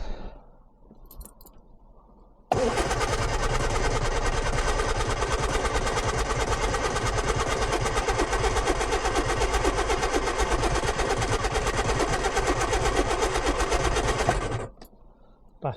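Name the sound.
Lotus Twin Cam engine cranking, trying to start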